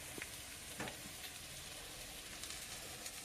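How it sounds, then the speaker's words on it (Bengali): Jute leaf chops frying in oil give a faint, steady sizzle with occasional soft stirring taps. "পাট পাতার চপটা ভাজা হচ্ছে"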